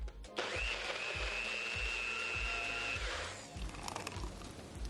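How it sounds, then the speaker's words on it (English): A blender whirs through a strawberry peach smoothie with coconut water, a steady motor drone with rhythmic chopping thumps for about three seconds, then slowing and clattering as it winds down. "Blend it up."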